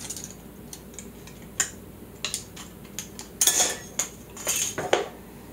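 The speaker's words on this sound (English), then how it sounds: "now I'm just gonna cut that extra off" Excess material is cut off a homemade wooden dowel takedown arrow. The sound is a close series of sharp, irregular clicks and snips with short pauses between them, and no one speaks.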